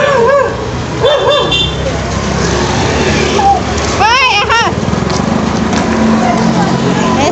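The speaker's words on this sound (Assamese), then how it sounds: "আগে আগে কুকুৰ এটা ইমান ভয়ো লাগে" A dog barks and yips on a road, giving several short, loud, close calls against steady traffic noise, while a person talks over it.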